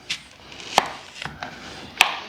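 A sharp Rada kitchen knife chops through an onion on a cutting board while prepping a low country boil, giving four crisp, separate knocks spaced irregularly, close and clear with no voices.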